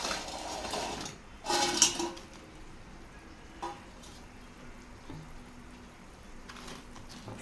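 Fried bread pieces being stirred into boiling sugar syrup for a wedding-style bread halwa: a few sharp clinks of a spoon against the pan over a faint, steady bubbling hiss, close and quiet.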